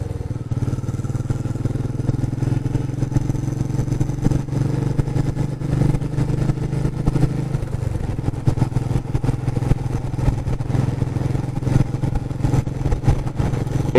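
Vehicle travelling along the NH-12 national highway near Ranaghat, a loud steady engine drone with rumbling road noise and occasional clatter throughout, no voices heard.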